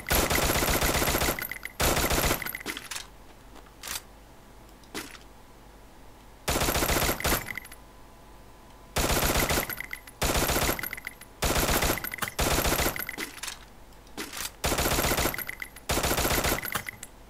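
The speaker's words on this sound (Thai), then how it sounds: "ผมลองยิงนะ" An XM8 Fiery Pumpkin rifle fires in the video game Free Fire. Repeated loud bursts of rapid automatic gunfire, each lasting about a second, are separated by short quiet gaps.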